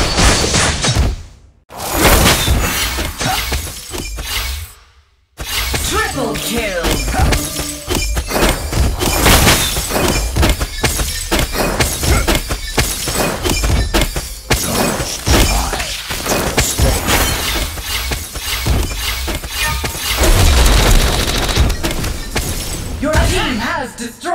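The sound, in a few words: turret being destroyed in video game Legend of Ace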